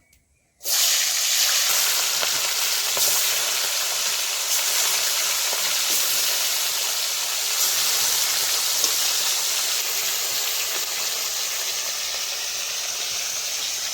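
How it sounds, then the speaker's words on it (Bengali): Retha river fish frying in hot oil in a pan, a steady loud sizzle and hiss that starts abruptly and carries on unbroken, with no talk. "মাছটা ভেজে নেব"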